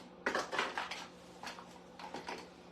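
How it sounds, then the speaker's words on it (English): A whisk clatters against the inside of a pot of pineapple-juice mixture being brought to a boil, producing quick bursts of metallic tapping and scraping in an irregular rhythm, close and fairly clear. "I've got a whisk here that I'm going to use with it"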